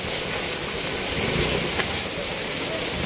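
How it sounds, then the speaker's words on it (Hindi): Heavy monsoon rain in Mumbai pours steadily in a dense, loud hiss, close and unbroken, with no voices. "कितनी ख़तरनाक बारिश है"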